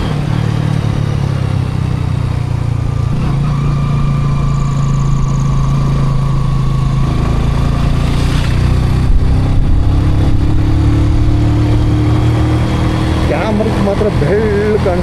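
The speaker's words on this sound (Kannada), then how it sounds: "ಗಾಡಿ ಬರ್ತದೆ, ಸಂತೋಷ." A vehicle engine rumbles steadily, its pitch rising as it draws nearer, with a brief clatter midway and faint voices in the background.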